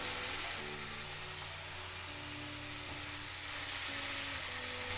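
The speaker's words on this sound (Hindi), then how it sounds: "साथ ही इसमें हम काजू डाल देंगे" Cashews fry in hot oil in a pan with a steady, broad sizzle, close and continuous throughout, with faint stirring beneath.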